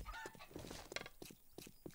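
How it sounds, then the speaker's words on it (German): Chicken in the survival video game 7 Days To Die clucking in a quick series of short, close calls, with faint game ambience underneath. "hier ist ein Huhn"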